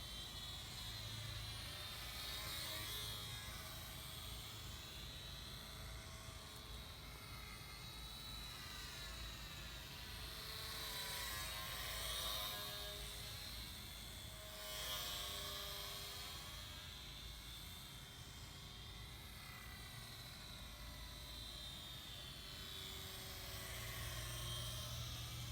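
A small four-channel ultra micro RC model airplane flies nearby with a steady, thin high-pitched electric motor whine that swells and fades slightly as it passes.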